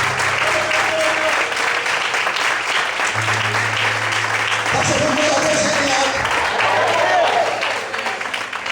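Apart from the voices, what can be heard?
congregation applause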